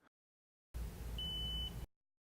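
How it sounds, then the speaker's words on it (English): Single electronic beep from the preset button of a 2013 Mazda5 car radio, a clean sustained tone lasting about a second over a brief burst of background hiss, otherwise near silence. "Press and hold the channel preset button until a beep sounds."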